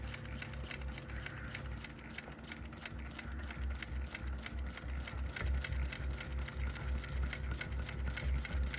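A longarm quilting machine stitches with a fast, steady, low mechanical hum and a faint rapid clatter, quiet and continuous throughout with nobody speaking.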